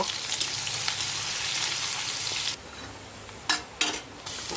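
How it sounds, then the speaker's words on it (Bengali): Chopped onions frying in hot oil with dried red chillies and bay leaves, a steady close sizzle that drops away partway through, then a few short bursts of stirring or scraping in the pan. "এবারে পেঁয়াজ, কুচে রাখা পেঁয়াজ দিচ্ছি, ভালো করে ভেজে নেব"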